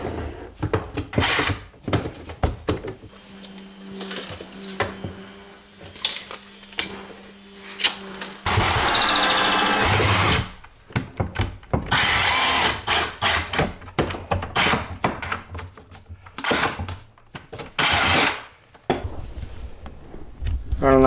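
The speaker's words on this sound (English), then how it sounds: "I have to drill a drain hole through this cabinet, through the floor, down under the trailer" A power drill bores a drain hole down through a kitchen cabinet floor in a salvaged mobile home, with two sustained whirring bursts amid many sharp clicks, knocks and handling clatter nearby.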